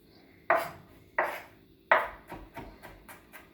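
A knife chops garlic on a cutting board for a spring minestrone, sounding as three sharp, distinct strikes followed by a quicker run of lighter taps, close and clear with no talking.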